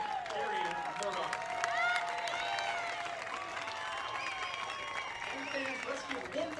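Fans at a Dixie State women's soccer senior day game applaud the 2017 seniors. A steady crowd clapping wash runs throughout, with an announcer's amplified voice carrying over it.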